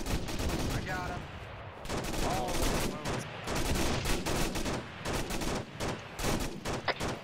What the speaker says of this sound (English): Watch my MG fire, I'm suppressing.